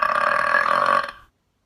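A person lets out one long, loud, rasping burp lasting about a second, close and alone, cutting off abruptly into silence.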